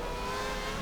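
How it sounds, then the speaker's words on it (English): Williams FW14 Formula One car with a V12 engine in the rFactor 2 racing game at Estoril, a steady high-revving engine drone throughout, moderately loud with no talking. "Oh, I can hear the V12 behind me."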